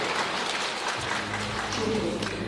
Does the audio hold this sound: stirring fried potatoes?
no